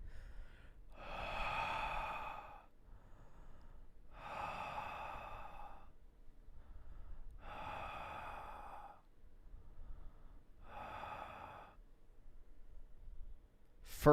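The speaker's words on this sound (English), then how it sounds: "Hearing you breathing on the mic is disgusting." Heavy, close breaths into a microphone come in four long, loud bursts about every three seconds, each a rushing, airy exhale, with quieter gaps between them.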